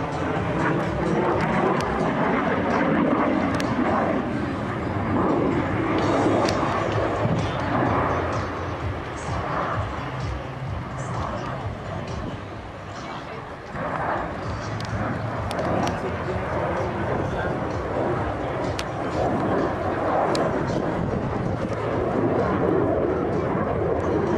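A Romanian Air Force MiG-21L jet fighter roars continuously at an airshow, a loud, rough, sustained engine thunder with crackling bursts, heard with a voice talking over it.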